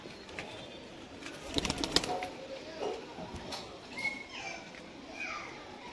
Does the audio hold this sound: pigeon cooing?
yes